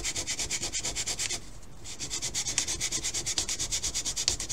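Rhythmic back-and-forth strokes of 120 grit sandpaper on a wooden model rocket fin, steady and close, with a brief pause midway before the scratchy strokes resume.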